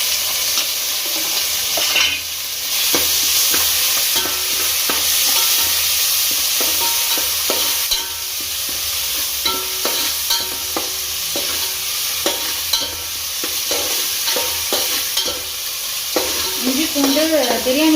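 Ginger garlic paste stir-fried in hot oil in a pan for chicken biryani, a steady loud sizzle with scraping stirs throughout and no talking.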